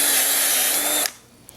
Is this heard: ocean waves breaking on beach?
no